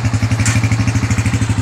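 A tricycle's motorcycle engine runs steadily close by, its low rhythmic chugging pulsing evenly throughout with a faint rattle on top.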